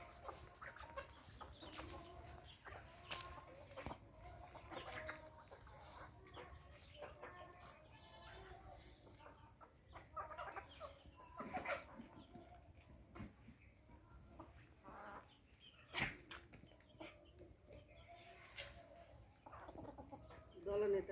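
Desi village chickens cluck in a home yard, with soft scattered clucks and rustling at a fairly faint level, while people talk quietly nearby.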